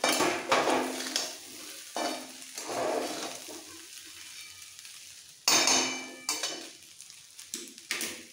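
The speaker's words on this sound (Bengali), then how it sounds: "সবজি দিয়েও খুব ভালো করে মিক্স করে ফেলবো।" Vegetables being stirred into veg fried rice in a pan, with scraping spatula strokes over a steady sizzle that swell in several loud bursts and ease between them.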